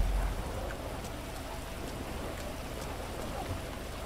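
Steady rain in the video game GTA 5 Online pours down in a dense, constant hiss with scattered droplet patter, loud and close, with no voices.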